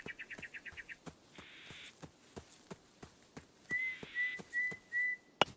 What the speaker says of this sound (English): It sounds like somebody whistling at me.